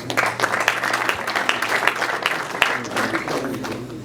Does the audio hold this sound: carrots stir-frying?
no